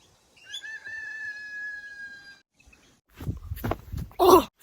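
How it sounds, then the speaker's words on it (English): An outdoor bird call, a single sustained tonal cry held for about two seconds, clear and moderately near, followed by a pause and then rustling and handling noises. "There's a bird."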